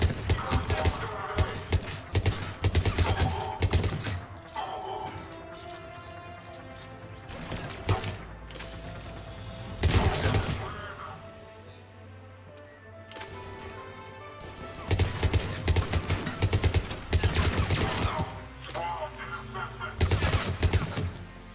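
Squadmate gunfire in Mass Effect 3, loud irregular bursts of rapid shots separated by quieter stretches of ambient game sound, with talk heard at times between volleys.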